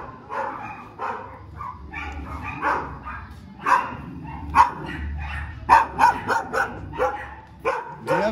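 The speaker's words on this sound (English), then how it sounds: "And we have roof dogs." Several dogs bark from rooftops in a Mexico City neighbourhood, a run of sharp, fairly close barks and yips, sparse early and then quickening into a cluster toward the end over a low background rumble.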